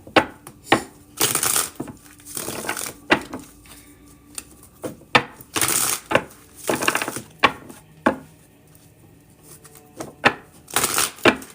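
Tarot cards being shuffled by hand, giving repeated crisp riffling bursts and soft slaps in an irregular rhythm, close and fairly loud, with quiet gaps between shuffles and no talking.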